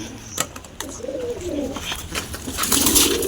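Pigeons coo in low, rolling calls, several in succession, close by, with scattered clicks and rustles around them.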